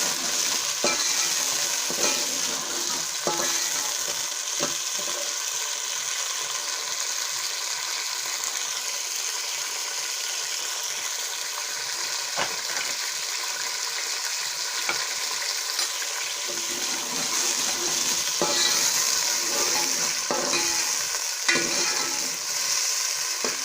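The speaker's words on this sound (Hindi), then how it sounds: "इसमें हम मटर डाल लेंगे। और इनको थोड़ा फ्राई कर लेंगे।" Peas and mixed vegetables fry in a pan with a steady, moderate sizzle throughout, broken by occasional light clicks and scrapes of stirring.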